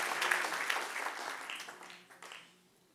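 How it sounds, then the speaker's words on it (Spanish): Applause from a church congregation during a sermon, a dense wash of clapping that is strongest at the start and gradually fades away. "denle un aplauso al que reina"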